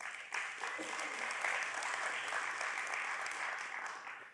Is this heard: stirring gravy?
no